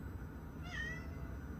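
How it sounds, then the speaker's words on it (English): A single cat gives one short, fairly faint meow over a steady low hum from a server case, with no one talking. "there's a cat meowing"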